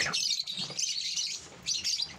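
Many small pet birds in a mini aviary chirp and twitter continuously in overlapping high tweets, close by and lively, with no talking.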